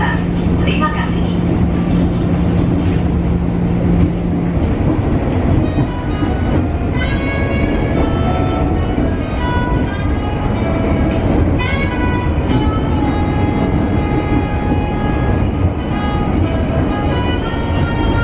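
Steady rumble of a Jakarta KRL commuter train running on rails, with continuous mechanical noise and people talking and announcements faintly layered over it throughout.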